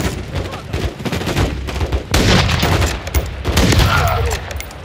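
Gunfire from the Call of Duty Modern Warfare 3 campaign is heard as dense, continuous bursts of automatic weapons and loud shots, a heavy, unbroken barrage with no clear voices.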